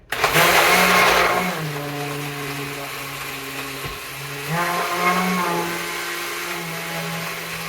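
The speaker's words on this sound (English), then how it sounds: "I've been using this Oster, O-S-T-E-R blender for years" An Oster blender whirs through a blueberry smoothie, starting with a loud burst, easing into a steady motor hum, then revving up again partway through, close and clear with no talk.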